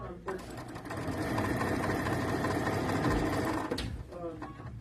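Sewing machine stitching a quilt block, a fast steady motor whir running for about three and a half seconds after a brief start, close, with a person talking around it.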